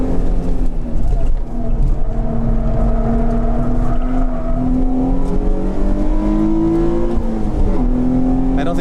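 A bright red Nissan 350Z racing against other sports cars on a track on Nitto tires, its engine droning loud and close with rising and falling revs through gear changes, while someone talks over it.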